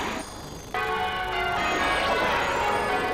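Church bells ring close by, with a bright metallic tone that swells after a brief pause and keeps sounding with overlapping strikes and a lingering hum.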